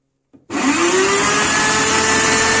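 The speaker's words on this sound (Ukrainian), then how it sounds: "зараз буде трохи шумно, так як дрель стара" An old electric drill turns a shaft at home as a makeshift lathe. After a brief click, the motor starts abruptly and holds a loud, steady whine with a rising tone as it spins up, running close by and alone.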